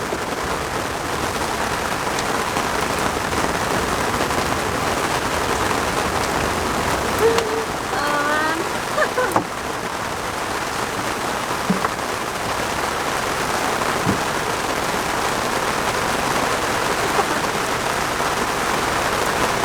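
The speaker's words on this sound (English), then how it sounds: "it's raining like crazy" Constant dense hiss of rain pouring down, steady and enveloping, with a brief faint voice partway through.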